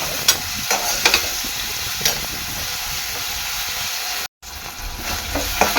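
Chopped onion frying in oil in a pan for spiced rice, a steady close sizzle with occasional scraping clicks of a spoon stirring, briefly cutting out for a moment near the end.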